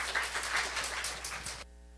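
A church congregation claps in a brief burst of applause that cuts off abruptly, leaving near silence.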